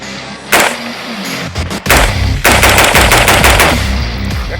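Loud, close AR-15 carbine fire using military ammunition and an H3 buffer: a few single shots followed by a rapid string of shots echoing outdoors.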